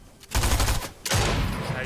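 Gunfire in Fortnite Battle Royale sounds as two loud bursts of rapid shots with a short gap between them, while players talk over the game audio.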